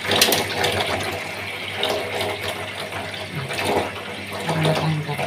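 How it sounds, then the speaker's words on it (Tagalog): Clorox bleach poured during a house-cleaning job, a steady watery splash and trickle running the whole time amid light clatter, fairly close and with no talking. "Okay, lagyan ko ng Clorox."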